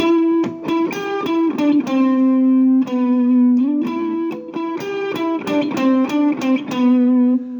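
An overdriven electric guitar plays a riff an octave higher, a quick, choppy riff with notes picked in a bouncy rhythm and a gritty, crunchy tone.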